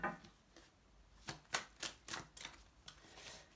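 A tarot deck is shuffled by hand in a series of sharp, papery riffles and slaps, close and fairly faint, with several distinct bursts spaced unevenly and no talk.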